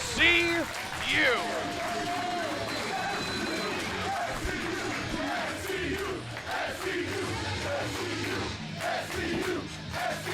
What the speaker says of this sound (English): this Fresno crowd at the Best of the West studio, letting them hear it